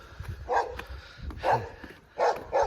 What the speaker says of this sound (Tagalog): Ayan na may aso